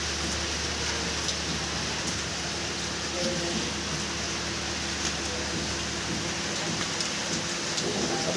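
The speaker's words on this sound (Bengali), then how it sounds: "মোটামুটি ভালো বৃষ্টি হইতেছে" Fairly heavy rain falling steadily outdoors, a dense continuous hiss with a low rumble beneath, with no clear pauses across the clip.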